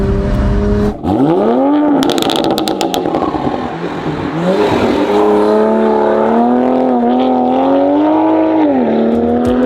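A Toyota Supra starts and revs through an AWE Touring catback exhaust, rising and falling in pitch before settling into a loud, rumbling idle.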